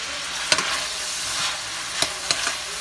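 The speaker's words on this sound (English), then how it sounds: "Now first I'm going to throw in my carrots and my onions, since those take the longest." Carrots and onions fry in a pan with a bright steady sizzle, broken by a few soft stirring scrapes and bumps, and no voices.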